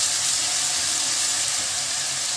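Ground masala paste sizzles steadily as it fries in a hot pan while besan sabji is being cooked, a dense even hiss with no talk.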